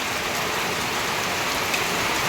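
Heavy rain pours down steadily in Odisha, a dense, loud, continuous hiss of drops hitting surfaces close by, with no pauses and no voices.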